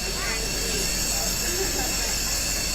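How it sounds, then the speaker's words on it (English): A steam locomotive pulls into Watson Station beside the city park in Missouri Valley and hisses steadily as it stops, a dense continuous roar of steam with faint voices underneath. "The steam train has pulled up and stopped right here."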